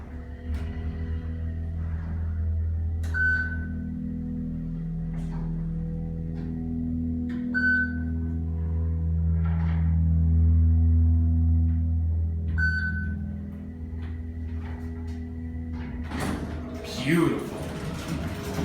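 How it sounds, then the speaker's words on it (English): Dover oildraulic hydraulic elevator at Brown Hall, Tennessee Tech University, its motor humming steadily throughout with periodic short chimes, then the door sliding and thudding near the end, heard from inside the cab with quiet talk. "Let's hear that motor one more time."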